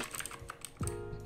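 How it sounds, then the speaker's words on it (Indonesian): A quick burst of clicky keystrokes on a mechanical keyboard with Gateron blue switches, close and fairly quiet, with one heavier thump partway through. "Ini kalau sekarang di depan gue ada keyboard mechanical"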